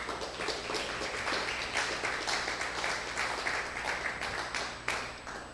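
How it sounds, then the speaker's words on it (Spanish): A church congregation applauds together, a steady moderately loud wash of clapping with a few sharper bursts, indoors and without speech. "Denle un aplauso al Señor, hermano."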